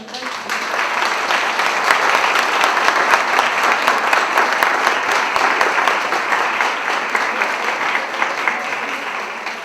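Loud, sustained applause from an audience honouring a doctor, steady dense clapping throughout with no break.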